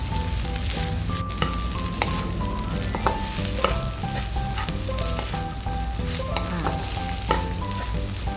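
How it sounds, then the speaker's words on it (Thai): Onion being stir-fried in a pan for Chinese sausage fried rice, with a steady close sizzle broken by repeated sharp clinks and scrapes of a spatula against the metal, and no talking. "หอมใหญ่ลงแล้วเราก็จะผัดต่อไปอีกนะคะ"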